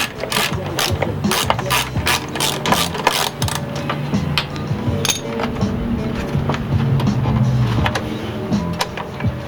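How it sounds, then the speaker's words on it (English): Ratchet fitted with a 10mm socket backing a bolt out of a Nissan 370Z cold air intake setup, a fast series of sharp clicking pawl ticks in bursts, close and clear with faint mechanical clinks. "you want to get this little bolt out right here. It's a 10mm socket."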